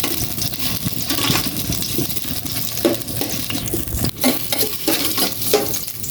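Ginger sizzles in a hot pan, a dense, close, continuous crackling fry with a few scraping stirs and light clinks over it, and no voices.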